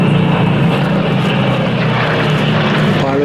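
Supermarine Spitfires flying past at the Flying Legends airshow in July 2015 produce a loud, sustained propeller-engine roar, close and powerful throughout.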